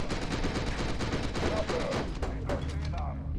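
Assault rifle gunfire in the video game FEAR 2, rapid dense bursts of shots hammering loudly and almost without pause across the whole moment.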